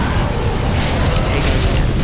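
A dragon breathing fire in a fantasy video game: a loud continuous roaring blast of flame with rumbling, booming low end, filling the whole moment.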